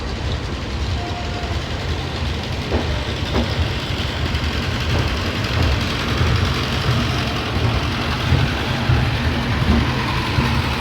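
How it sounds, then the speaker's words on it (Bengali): Express train on the New Delhi to Malda Town route rolling slowly into Varanasi Junction in the morning, a steady low rumble of wheels and carriages with faint clanks, continuous throughout. "সকাল প্রায় 8টার সময় ট্রেন ধীরে ধীরে বারাণসী জংশন এন্টার করছে।"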